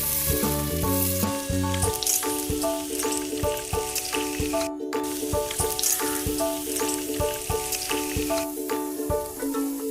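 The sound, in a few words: green chillies and tomato cubes cooking in spices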